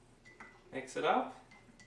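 Bubble tea is stirred in a mug, a brief clink and scrape of a utensil against the mug, close and quiet, lasting about a second.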